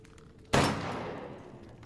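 A single loud gunshot fired at a raven in the video game Resident Evil Village cracks out sharply, then a long reverberant tail fades away.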